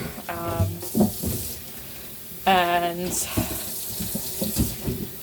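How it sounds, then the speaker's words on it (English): A tap running warm water into vinegar jugs, a close rushing stream with gurgling as the jugs fill, heard under a person speaking briefly. "So just refilling my vinegar jugs here with some warm water."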